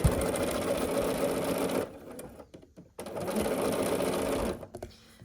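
A sewing machine stitches quilt squares together in two bursts of rapid mechanical whirring, separated by a short pause, close and clear with no talking.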